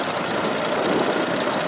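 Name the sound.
International 1020 tractor engine, 1936, International Harvester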